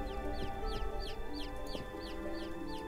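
A chicken in the video game Niffelheim clucks repeatedly in a steady rhythm of short chirpy calls over a constant low ambient game hum, with no talk.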